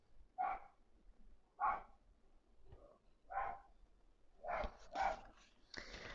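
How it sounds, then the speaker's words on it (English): A dog barks several times at irregular intervals, fairly faint and somewhat distant, with short sharp yaps toward the end. "I apologize for the dog barking."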